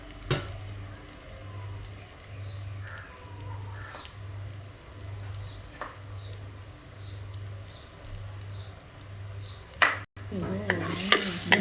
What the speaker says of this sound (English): give it another stir and wait until it gets transparent